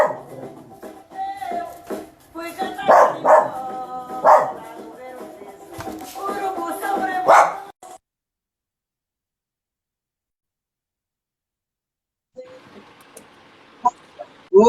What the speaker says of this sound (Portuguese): Meu cachorro resolveu dar um show ouvindo.